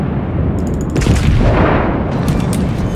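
Heavy naval gun salvos from the Japanese battleship IJN Mutsu in World of Warships, a deep sustained rumble of booming fire with sharper cracks around the one-second mark, loud and continuous throughout.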